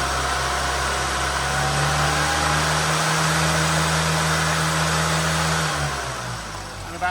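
A Stage 1 tuned Mini 998 engine holds a high, steady rev close by for several seconds, then drops back toward idle near the end.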